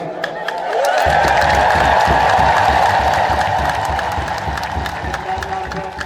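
A church congregation at a Hosanna celebration breaks into loud, sustained ululation and cheering mixed with clapping, rising abruptly and then filling the space evenly.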